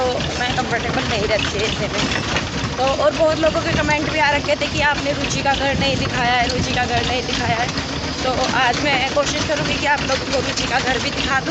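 A tractor rumbles steadily along a bumpy village road, its engine drone continuous under someone talking close by for the whole stretch.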